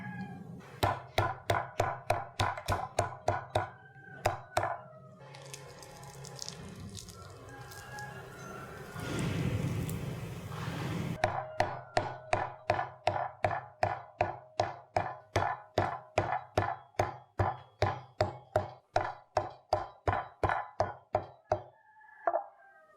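Lemongrass and galangal being bruised, a steady series of loud, close knocking thumps in regular rhythm, pausing midway for a softer scraping stretch, then resuming with dozens more evenly spaced hits.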